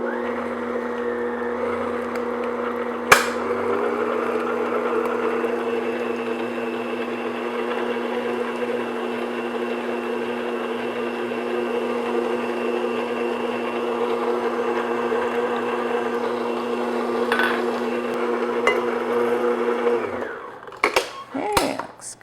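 Electric mixer beating eggs one at a time into cheesecake batter: a steady, close motor whir holds for about twenty seconds, then stops, followed by brief handling knocks.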